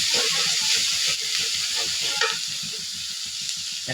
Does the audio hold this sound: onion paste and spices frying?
yes